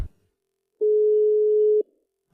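A single steady electronic phone call beep, clear and close, holds for about a second in otherwise near silence, with a faint click just before it.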